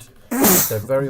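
One loud, sudden sneeze bursts out close to the microphone, cut in among speech from someone talking.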